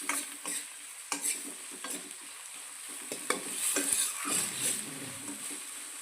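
Onions fry in a pan for a village-style chicken curry, their sizzle broken by frequent spoon stirs and scrapes against the pan, close and without talk.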